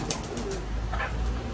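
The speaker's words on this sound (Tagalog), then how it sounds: "makamusta natin yung ating mga kalapate" Pigeons in a breeding loft cooing softly, low throaty coos close by over a steady background hum, with a faint chirp mixed in and no speech.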